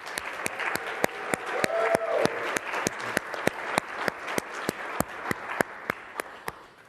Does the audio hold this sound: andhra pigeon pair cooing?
no